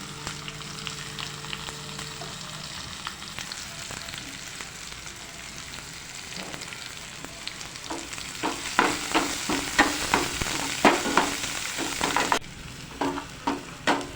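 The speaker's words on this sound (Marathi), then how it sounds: "त्यानंतर कांदा घालून द्यायचा आहे आणि लालसर होईपर्यंत भाजून द्यायचं आहे आपल्याला" Sliced onions fry in a pan for a methi and green pea gravy, a steady sizzle with scraping stir strokes that grow louder and more rhythmic toward the end.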